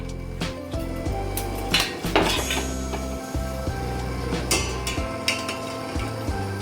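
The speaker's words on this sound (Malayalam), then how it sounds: "നമ്മളിങ്ങനെ ഇളക്കിക്കൊണ്ടിരിക്കണം കേട്ടോ." Caramel being stirred in a pan for a home-made cake, with repeated metallic clinks and scrapes of a utensil against the pan, fairly close and busy, with no speech.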